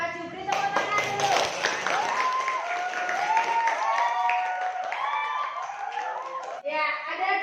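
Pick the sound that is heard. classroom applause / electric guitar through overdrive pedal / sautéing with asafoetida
classroom applause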